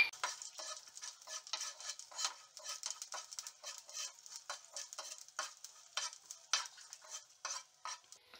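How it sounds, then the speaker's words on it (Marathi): Fennel and coriander seeds with sesame seeds, ginger and garlic are dry-roasted in a pan, stirred in a quick, steady rhythm of light scraping and rattling strokes, quiet and close with no talk. "आता बडीशेप आणि धने जे आहेत ते आपण"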